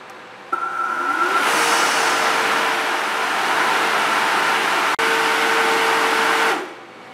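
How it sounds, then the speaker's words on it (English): A refrigerant recovery machine, hooked up to pull refrigerant from a refrigeration compressor's crankcase while the compressor oil is changed, starts with a click and settles into a loud, steady motor hum and hiss that continues for several seconds before winding down. "The last thing I need to do is open my bottle and turn my recovery machine on."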